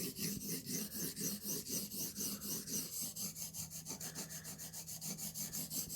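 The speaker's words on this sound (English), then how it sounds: "I might just take the edge off by running it on a stone" A knife edge is stroked rapidly back and forth on a sharpening stone in a fixed-angle TSPROF Blitz 360 sharpener, making a close, steady rhythmic rasp with each pass sounding clearly and alone.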